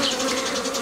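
Honey bees swarm over a hive frame in a steady, dense buzzing drone, close and continuous for under a second.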